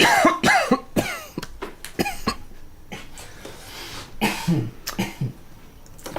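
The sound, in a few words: cough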